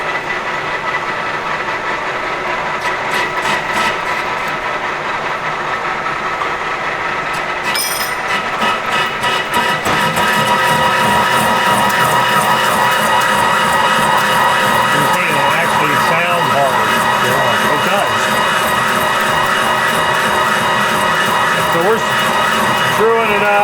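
A metal lathe cutting 4140 steel, a loud continuous grinding whir with a harsh, busy cutting texture that grows denser partway through.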